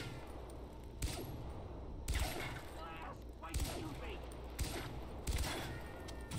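Unsilenced pistol shots in the video game Far Cry 3: Blood Dragon ring out as several loud cracks spaced about a second apart over a steady game soundscape.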